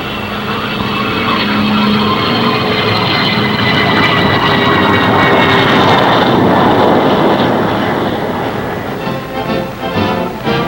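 Single-engine Banshee Navy jet fighter, a steady loud jet roar with a broad rushing tone that holds through most of the span and thins slightly near the end, with no voices.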